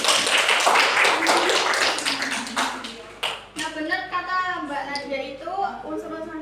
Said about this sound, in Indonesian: beri tepuk tangan buat Mbak Nadia